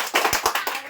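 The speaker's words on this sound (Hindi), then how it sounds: "ताली ताली बढ़ाओ।" A few quick rounds of hand clapping break out in a school classroom during a general-knowledge quiz, sharp uneven claps close by lasting under a second with no speech.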